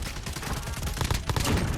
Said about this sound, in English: who's shooting at you?